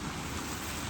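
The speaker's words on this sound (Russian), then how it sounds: "Куда ни встану, там везде ветер" Wind blows hard on Popov Island, giving a loud, steady rumble that buffets the microphone with no break and no voices.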